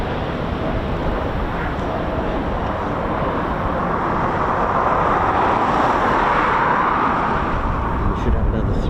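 A Eurofighter Typhoon FGR4 jet takes off at an RAF station, a loud, steady, broad roar that holds at full strength for the whole stretch.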